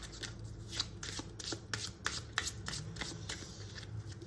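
Tarot cards being shuffled and drawn by hand, a close series of rapid riffling and sliding flicks in an uneven rhythm with no talk over them.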